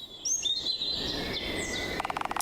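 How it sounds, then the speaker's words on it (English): Birds chirp outdoors in quick high tweets and thin whistling calls, fairly faint and continuous over a soft background hiss, with a rapid trill near the end. "Now, I can hear the birds chirping."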